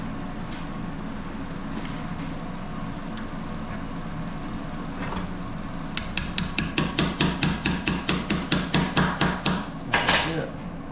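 Rapid metallic hammering from a socket hammer while repairing a Lippert PSX1 camper stabilizer jack, a fast even series of about fifteen sharp blows after a quieter stretch of workshop hum, ending with one louder clank.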